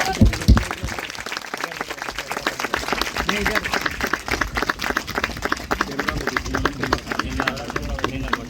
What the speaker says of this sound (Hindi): ताली जोर से ताली बजाएंगे।